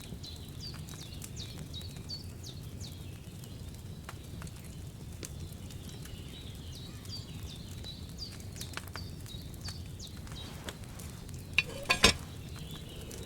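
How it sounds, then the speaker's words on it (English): Wine bubbling and simmering in a cauldron over a flame in Kingdom Come: Deliverance 2, a steady low churning boil running throughout, with a few sharp clicks and clinks near the end. "Hear that bubbling? It's boiling."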